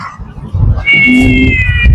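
A cat meows loudly and close at a Thai house construction site, one drawn-out wavering call over rumbling background noise.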